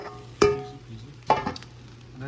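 Garlic chicken fried rice with scrambled egg and butter is stirred in a hot pan, a soft sizzle under two sharp scraping clanks of the utensil against the pan.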